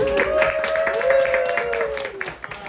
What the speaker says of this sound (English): may want to hold those applause